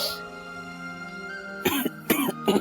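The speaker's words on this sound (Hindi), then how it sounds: "खांसी हो रही ना तुम्हें?" Cough in a romantic Pakistani drama scene, several short hoarse coughs in quick succession, close and clear, over a faint steady background tone.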